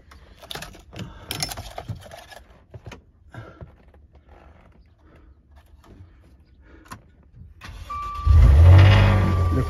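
A car engine at an auction cranks and catches at once, rising into a loud steady idle that follows several seconds of quieter clicks and handling noises.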